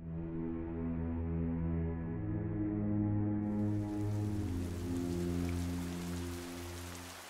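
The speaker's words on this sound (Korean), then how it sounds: "비가 내리는 날" Steady rain falls in a continuous soft hiss that grows brighter and fuller partway through, layered over a low sustained droning hum, with no talking.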